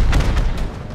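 Heavy booming blast of rocket fire in the video game Rust, a single loud low-frequency detonation rumbling through the whole short moment with no talk.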